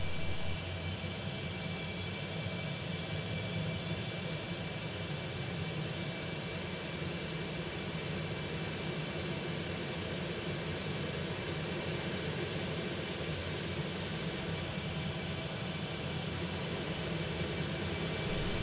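Simulated Concorde jet engines spooling at the runway threshold with afterburners armed for takeoff in X-Plane 11, a steady, unbroken roar and hiss holding at an even level throughout, with a thin high whine running above it.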